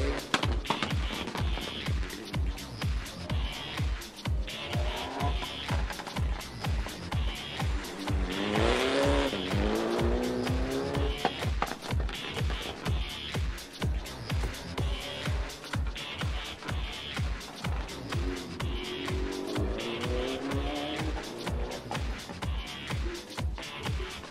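Rally car on a timed stage of the Rallye du Chablais at Champéry, its engine revving hard with repeated shifts and tires squealing through corners, loud and continuous throughout.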